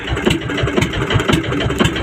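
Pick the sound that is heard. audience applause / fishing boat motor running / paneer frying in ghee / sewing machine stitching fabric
fishing boat motor running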